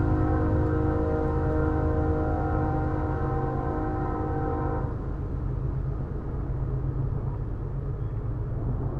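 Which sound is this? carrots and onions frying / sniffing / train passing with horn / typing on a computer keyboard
train passing with horn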